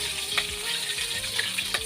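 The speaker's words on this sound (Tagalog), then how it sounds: "Sibuyas ang ating iuuna." Onions sautéing in a pan, a steady broad sizzle with soft stirring scrapes coming in short repeated strokes, close and fairly loud with nobody talking.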